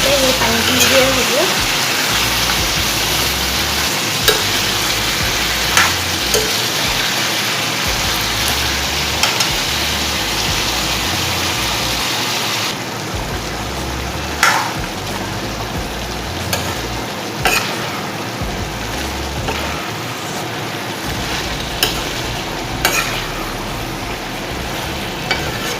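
Mutton pieces frying in a pan with a small amount of masala and their own juices, no added water: steady loud sizzle throughout with occasional scraping clicks of stirring, softening somewhat midway.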